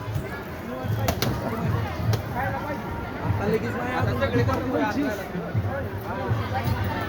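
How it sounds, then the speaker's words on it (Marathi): Devotees' coconuts are cracked open for prasad offerings at the Aklai Devi village temple, a few sharp, hard cracks standing out over the steady chatter of a busy crowd. "नारळ फोडण्याचं काम प्रसादासाठी भाविकांनी आणलेल्या नारळाचं फोडलेलं काम आहे."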